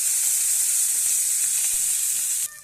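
Coriander seeds and fresh coriander leaves sizzle steadily in a hot pan while karela fry is cooked, a dense continuous hiss that stays loud and even, then drops off abruptly near the end.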